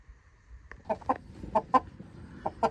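A Barbezieux rooster clucks in a series of short, clipped calls, fairly close but quiet against a faint background hum.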